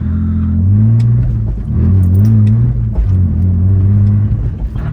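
A BMW E46 fitted with a ZF 6-speed gearbox and a short differential drives at low speed, its engine giving a loud, close, steady drone with slight rises and dips in revs.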